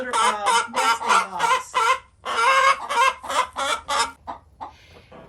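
Chickens cluck and squawk in loud bursts near the nesting boxes, a busy overlapping chorus of hens that rises and falls several times before trailing off into quieter calls.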